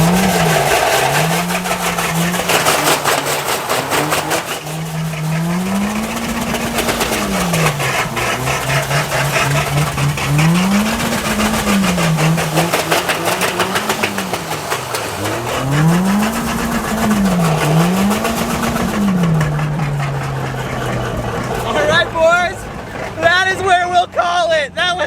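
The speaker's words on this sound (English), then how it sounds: "We're gonna cruise down the street here, blow a couple donuts." A car fitted with warped tires made from 55-gallon steel drums revs up and down in repeated swells while doing donuts on a street, its engine loud and close with people talking over it.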